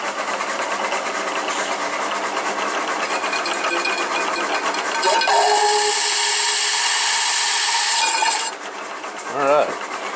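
A steady, loud high-pitched whine of a carbide hole saw drilling metal, rising in intensity midway, then dropping as the cut finishes with a brief squeal.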